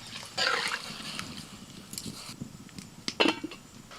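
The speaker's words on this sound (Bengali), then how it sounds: "ডালটা পাতলা করার জন্য একটু জল দিয়ে দিচ্ছি" Water is poured into simmering lentil dal with green tomatoes, giving short splashing and trickling bursts with a few light clinks against the pot, fairly close and without talk.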